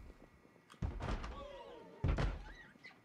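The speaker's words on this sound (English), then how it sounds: "Who's banging on the window?" Two heavy thuds of a zombie banging on a window in the Project Zomboid game, inside a police station holding room, each blow loud and close with a dull ringing tail, spaced about a second apart.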